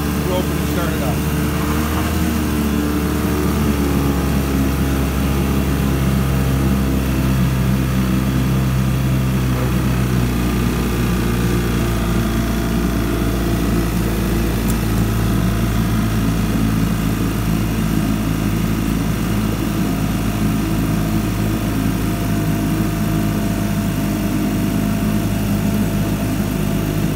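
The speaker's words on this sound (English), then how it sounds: "How long this motor will run, you know, and that's basically almost half throttle." Evinrude 3 hp folding outboard motor running steadily at about half throttle, a loud continuous buzzing drone with no break.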